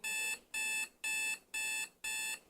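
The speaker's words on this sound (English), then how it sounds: "this is not your 5 a.m. alarm ring" An alarm clock rings at 5 a.m. in five evenly spaced bursts of bright electronic beeping, each about a third of a second with short gaps, clear and alone.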